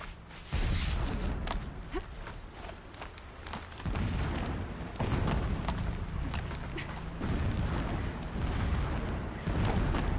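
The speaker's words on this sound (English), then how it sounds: "Explosions in the distance." Deep rumbling booms of distant explosions in the video game Horizon Zero Dawn roll in from far off, several in a row with low, muffled bursts over a steady ambient bed.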